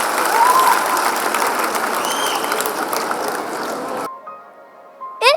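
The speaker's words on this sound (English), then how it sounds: "Everyone, please give them a huge round of applause." A school audience claps after a performance at an Indian school's annual day event, a loud, dense applause that fades out before a brief pause and a short mechanical ratcheting sound at the end.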